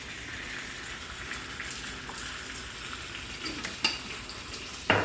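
Tomato sauce sizzles and crackles in a hot pan of gnocchi, a steady broad hiss with a couple of sharp clatters of a utensil or pan near the end, no talking.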